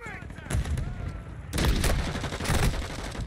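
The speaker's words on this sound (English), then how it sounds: "Dude, I'm shooting you point blank." Gunfire in the video game Modern Warfare 2 from an SPX-80 loadout, loud bursts of close shots breaking out in clusters, the heaviest volley arriving midway and continuing with rapid repeated cracks, with game sounds beneath.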